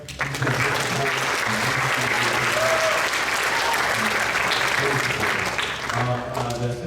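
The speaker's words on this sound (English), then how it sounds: "Round of applause for him" An audience at a sixth grade band concert gives a round of applause for the school superintendent, a thick, continuous clapping with faint voices and a few tonal sounds mixed in.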